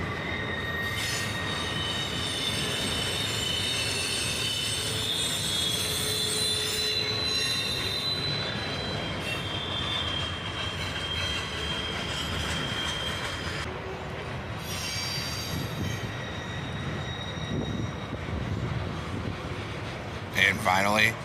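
A long, slow intermodal freight train rolls out of a building, its wheels squealing steadily and loudly against the rails for the whole stretch, with a continuous rumble underneath and occasional clanks near the end.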